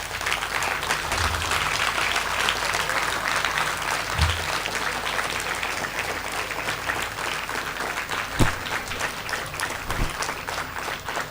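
Sustained standing applause from a large stage-event audience, dense steady clapping filling the whole stretch with a few sharper claps standing out near the end.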